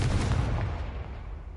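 A Confringo fire-blast spell in the wizarding game Hogwarts Legacy, a loud booming burst that quickly decays into a fading rumble.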